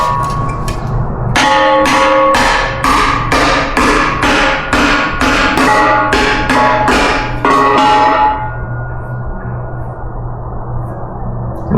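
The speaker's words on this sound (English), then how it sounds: "So I'm gonna take it out and spread it with a hammer" A hammer pounds a metal fuel filler part for a 1965 Chevrolet C10 hidden taillight filler, about a dozen loud, ringing metallic strikes in an even rhythm, close up, then a low steady hum after the blows stop.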